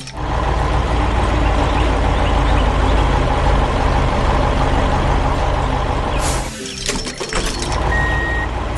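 A green cement mixer truck rumbles past in a 3D construction animation, its loud steady engine drone filling most of the clip before a sharp air-brake hiss and clatter near the end.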